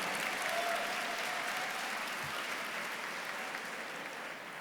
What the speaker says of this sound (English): Let's have a big round of applause for John.